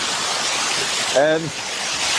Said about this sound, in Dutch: Als water van zo heel hoog valt, dan maakt dat veel lawaai.